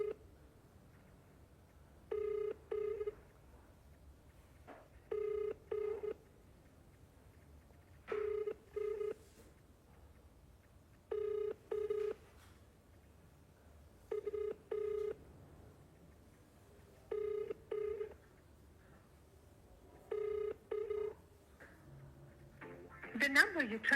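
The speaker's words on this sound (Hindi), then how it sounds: "मैं दोबारा कॉल कर लेता हूँ।" A phone call goes out and rings unanswered, the ringback tone repeating in seven evenly spaced double bursts over a quiet line, with a brief recorded voice starting at the very end.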